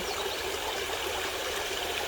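A wild stream rushes over rocks in remote countryside, making a steady, close, unbroken hiss and roar of flowing water with no breaks.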